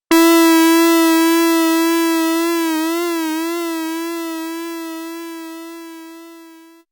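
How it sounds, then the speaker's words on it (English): A synthesized electric guitar note from the Serum synth, a single sustained tone whose pitch wavers in an LFO-driven bend midway, heard alone and slowly fading over about seven seconds. "In Serum, I simulated this effect by using the fine knob to adjust the pitch of the note produced by the oscillator."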